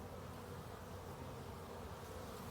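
Honey bees buzz around an open beehive, a dense, steady hum of many insects close by, continuous and unbroken with no voices.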